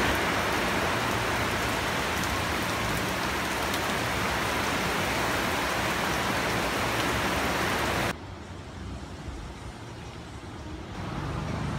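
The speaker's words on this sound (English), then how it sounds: "it is raining like crazy outside. It's like a full torrential downpour." Torrential rain at a resort cabana pours down in a dense, continuous hiss, loud and close, then drops suddenly quieter near the end as if heard from under cover.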